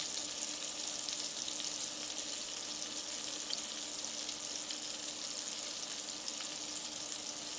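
Salmon and shrimp frying in garlic butter in a pan give a steady, close, even sizzle that holds throughout with no talking over it.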